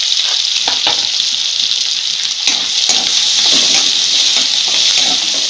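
Chopped onion and ginger-garlic paste fry in hot oil for a Kolhapuri mutton curry, giving a loud, steady hiss and sizzle with small crackling pops throughout and no talk.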